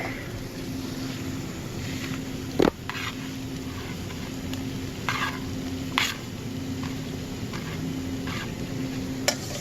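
Garlic sizzles steadily in a pan on a stove, a constant frying hiss with a low hum underneath and a few sharp clanks of utensil against pan scattered through, no talking.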